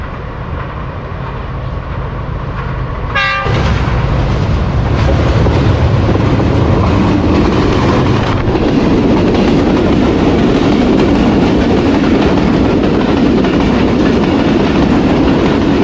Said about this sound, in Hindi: तो 13 आप अवाम एक्सप्रेस गुजर गई अलेक्जेंड्रा